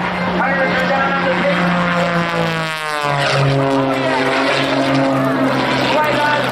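The Prometheus stunt plane makes a low pass right down to the runway at a Michigan air show, a loud, steady propeller engine roar with a sweeping pitch shift as it passes, while an announcer talks over it.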